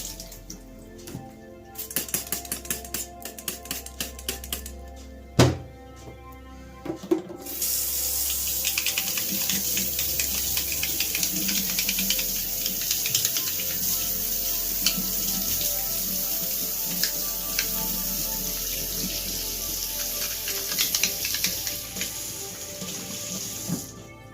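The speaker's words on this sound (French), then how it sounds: "On va juste rincer ça un peu vite fait." Tap water rinses aquarium equipment, starting with clattering handling and a splash, then settling into a loud, steady running stream over a sink for the rest of the clip.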